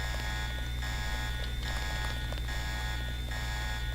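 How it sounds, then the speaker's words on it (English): An alarm blares inside the Infowars video game, a steady electronic tone with repeating beeping pulses held continuously at moderate level, with no voices over it. "Who keeps doing the alarm?"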